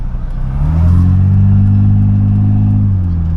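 Steady, loud hum of a vehicle engine pulling a towed load on the way to the dump, rising slightly in pitch then holding a constant droning tone, with no talking.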